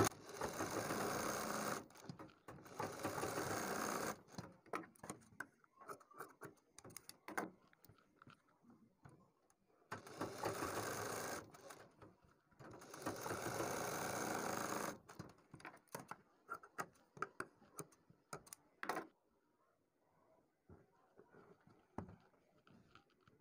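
Sewing machine stitching a neck design on cloth, running in several bursts of a few seconds each, separated by pauses with handling clicks and rustles, close and moderately quiet.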